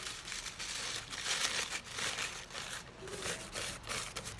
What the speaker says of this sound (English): take this and we're going to crumple it into a ball and squeeze it really tight